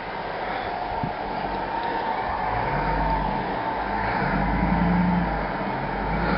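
A Dodge Ram 1500 pickup pushes about a foot of snow, its engine droning at moderate distance and swelling as it works, with a low rumble and no talk.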